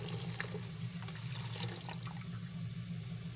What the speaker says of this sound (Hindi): तो अब हम करेंगे दूध को ऐड